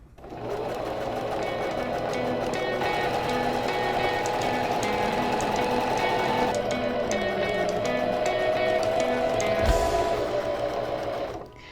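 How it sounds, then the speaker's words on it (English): A sewing machine stitches along pleated curtain cords, its motor humming steadily and loud for about ten seconds with a slight pitch shift midway, before stopping abruptly at the end. "now I'm sewing up through the center of the cords."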